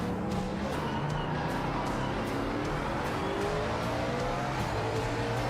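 A race car in Project Motor Racing drives on soft tires, its engine a continuous loud drone with rising and falling pitch as it shifts, plus faint tire noise, heard alone without talk.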